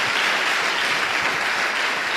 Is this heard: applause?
yes